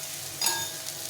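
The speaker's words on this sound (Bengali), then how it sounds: "আবার এটাকে ভালো করে কষিয়ে নিতে হবে, ভেজে নিতে হবে" Potatoes and onions frying in oil with cumin powder, a soft steady sizzle with a brief louder burst of stirring in the middle, close and fairly quiet.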